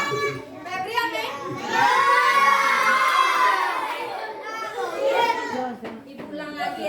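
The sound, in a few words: children shouting loudly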